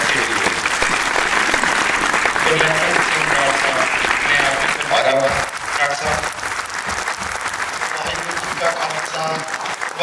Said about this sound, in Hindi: जोरदार तालियां एक बार फिर इन सबके लिए।